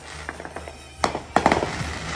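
Fourth of July fireworks crackle and pop at a distance, with scattered sharp bangs and then a denser burst of rapid cracks over a low background rumble.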